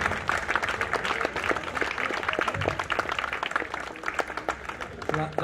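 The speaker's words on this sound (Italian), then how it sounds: "Le facciamo un applauso doppio." Audience members at a round-table event on football in Fanano applaud a woman being honoured, with steady crisp clapping running throughout and voices mixed in.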